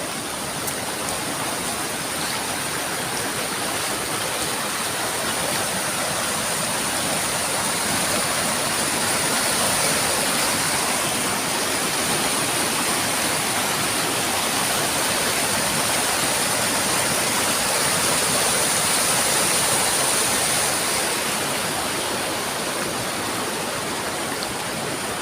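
Waterfall and river in the Philippines: a constant, loud roar of rushing and splashing water that fills the whole stretch without a break.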